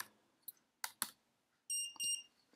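A minisumo robot's infrared sensor triggers short, high electronic beeps as it detects a black surface. A few faint clicks come first, then two clear tonal pips close together, quiet overall.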